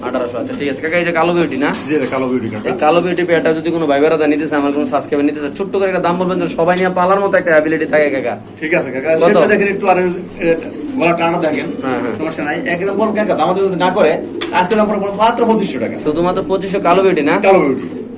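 Black Beauty pigeons at a Bangladeshi pigeon market coo repeatedly up close, their throaty calls overlapping with someone talking throughout.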